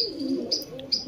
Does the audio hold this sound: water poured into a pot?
no